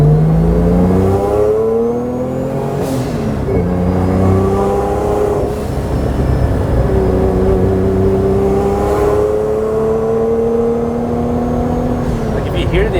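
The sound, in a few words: turbo Honda NSX engine exhaust revving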